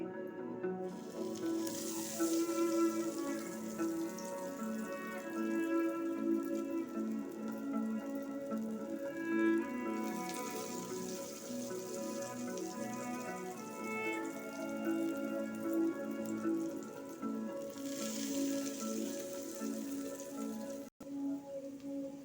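Potato patties frying in hot oil in a pan over a full flame, a steady, close sizzle with fine crackling that carries on without a break, under faint background music.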